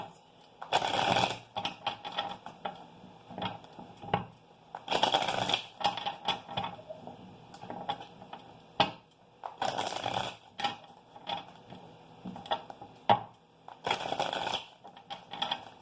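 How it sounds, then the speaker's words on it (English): Tarot cards are shuffled by hand in repeated short riffling bursts, each a crisp fluttering flurry separated by quieter tapping and handling sounds, close and intimate, with soft speech in between. "one more shuffle"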